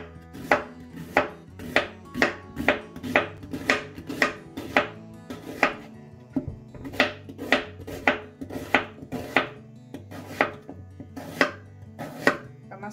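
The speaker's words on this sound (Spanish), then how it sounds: "Vamos a rebanar la cebolla." A knife slices an onion on a cutting board in rapid, evenly spaced strokes, two runs of crisp thuds with a short pause between, close and clear with no speech.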